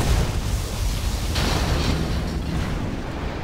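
A particle cannon blasting in Command & Conquer Generals, a loud sustained roaring rumble with a brighter crackling surge partway through, then a gradual fade.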